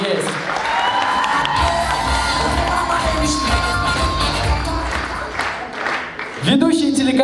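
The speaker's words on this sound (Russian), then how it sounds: "им громкие аплодисменты" A student comedy league final (KVN) at a university hall fills with loud, sustained applause, cheering and whoops from the audience, with a voice speaking over the crowd near the end.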